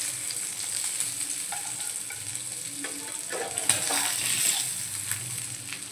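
Pomfret fish frying in a pan over medium gas, a steady bubbling sizzle of oil with a few light crackles and soft utensil clicks.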